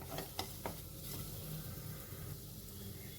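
Dates being sautéed in ghee in a kadhai, giving a soft, steady stir-and-sizzle with a few sharp scrapes near the start, close and fairly quiet.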